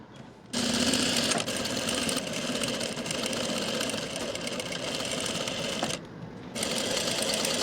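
A sewing machine runs in steady, fast continuous bursts while stitching the pocket of palazzo pants, loud and close, pausing briefly twice before starting again; no talk over it.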